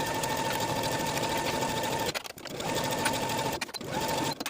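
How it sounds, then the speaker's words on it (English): Sewing machine stitching the side seams of a 1960s vintage dress, a steady close whirring hum with two brief pauses where the needle stops before running again. "Sew the side seams from the underarm to the bottom of the dress on both sides with a 5/8 inch seam allowance."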